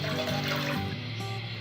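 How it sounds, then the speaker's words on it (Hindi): Water pours steadily into a cooking pan while seviyan is being prepared, a short continuous splashing run heard alone at moderate loudness. "इसमें पानी ऐड करेंगे"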